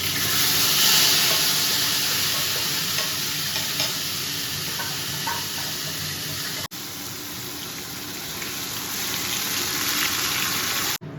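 Ginger, onion, garlic and chilli paste fries in hot oil with a loud, continuous sizzle close by, and stirring breaks it briefly partway through.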